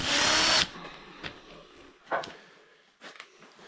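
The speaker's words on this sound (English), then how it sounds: "I just take my little impact driver and the head just comes off easy" A small impact driver loosens the engine head bolts on a Farmall A tractor, one loud close burst of rapid hammering followed by a few short clanks and rattles of metal parts.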